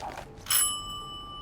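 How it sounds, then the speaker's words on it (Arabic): A doorbell gives a single bright ding that rings on and slowly fades, fairly quiet against a soft room background. "رن الجرس كمان"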